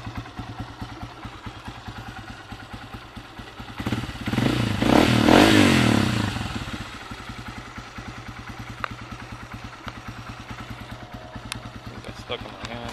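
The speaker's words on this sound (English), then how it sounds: "Give me some throttle without dying" Honda CRF150F dirt bike engine idling with a steady low putter, then a throttle blip rises to a louder rev for a couple of seconds before dropping back to idle.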